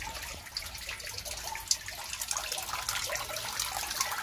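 Water pours steadily into a red tilapia pond, a continuous trickling flow with splashy detail that holds at a moderate level for the whole stretch, with no voices over it.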